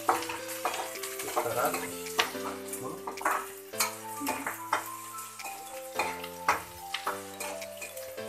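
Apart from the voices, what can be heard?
stir-frying chow mein noodles with cabbage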